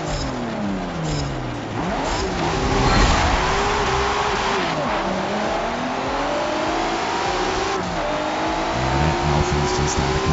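Honda NSX accelerating in a racing video game, engine note climbing and shifting through rising revs, loud and continuous with brief tire squeal, while players talk over it.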